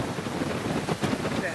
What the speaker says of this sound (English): it's really windy as you see